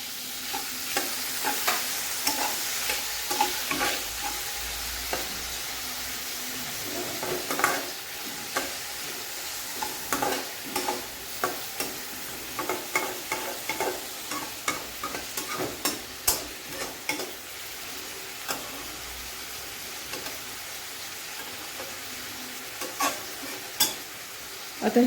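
Onion and tomato frying in a pan for upma, a soft steady sizzle broken by repeated scraping stirs, close and moderately quiet with no talking.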